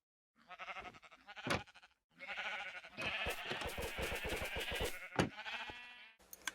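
Sheep in a Minecraft wool farm bleating repeatedly, several overlapping baa calls close and fairly loud, with short gaps between bursts and no talk.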